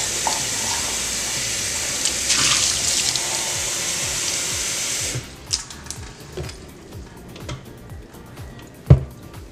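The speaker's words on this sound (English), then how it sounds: "let me dump out this nasty water" Dirty water from cleaning a beauty blender sponge is poured out into a sink, a steady gushing pour for about five seconds that stops abruptly, followed by scattered clinks and knocks and one sharp thud.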